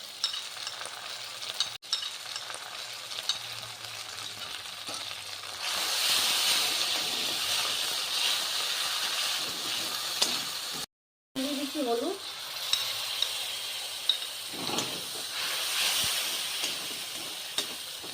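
Garlic, ginger-cumin and dry red chilli pastes fry and get stirred in a pan for a bhetki fish curry with kochur loti, a soft steady sizzle with scraping stirs and a brief dropout midway.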